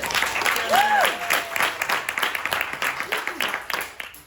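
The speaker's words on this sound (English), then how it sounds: "So let's clap it up for Shannon." An audience at a pitch competition claps loudly for a presenter, with a steady burst of applause and a few whoops over the crowd for several seconds.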